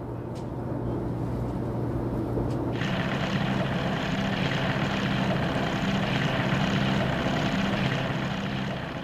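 An Outrider unmanned aircraft flies under remote control, its propeller engine giving a steady, droning hum that grows fuller partway through and holds on without any talking.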